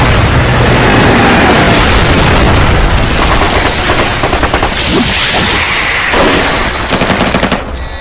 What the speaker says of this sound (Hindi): छोड़ना मत, शूट करते रहो।